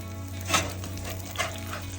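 Tortillas toast on a hot Blackstone griddle for breakfast tacos, giving a steady close sizzle over a low hum of the flat-top, with two brief scraping bursts of a spatula against the metal.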